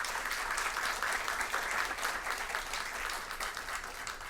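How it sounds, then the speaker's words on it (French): An audience at a school quiz contest between two lycée teams applauds steadily, a dense wash of many clapping hands at even loudness that eases slightly toward the end, with no talk over it. "Je vous demande de les applaudir."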